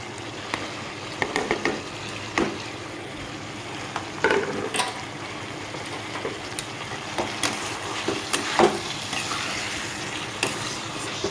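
Fried paneer cubes being sautéed with spice masala for a Bengali vegetarian alu paneer biryani, made without onion or garlic: a steady low sizzle with repeated scraping stirs and occasional louder clacks of the spoon against the pan.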